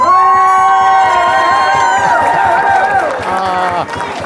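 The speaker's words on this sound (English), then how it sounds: "Ladies and gentlemen, a bit of a round of applause and encouragement with these guys." Wedding guests at a reception applaud and cheer, a loud, sustained mix of clapping and shouts with excited voices rising over the crowd noise.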